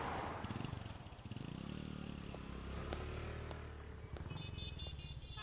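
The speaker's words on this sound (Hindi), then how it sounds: "मैं राज की बाइक ले आता हूँ।" A motorcycle engine runs steadily and loudly close by, with clattering and a brief rev, plus some scraping and background noise.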